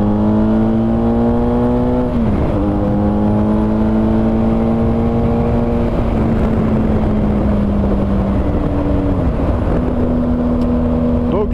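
A BMW R1250GS motorcycle accelerates to overtake on a road in Belgium, its engine droning loud and close with rising pitch, a gear change after about two seconds and another near the end, over steady wind rush.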